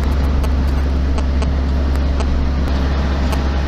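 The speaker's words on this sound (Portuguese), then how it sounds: "O caminhão da frente ali já está entrando no galpão onde fica o scanner" A truck pulls into the customs scanner shed at the Uspallata dry border crossing between Argentina and Chile, a loud, steady low engine rumble with intermittent clicks and knocks throughout.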